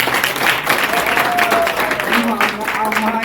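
A crowd claps steadily in a dense wash of applause at a speech event in Udgir, with voices carrying over it.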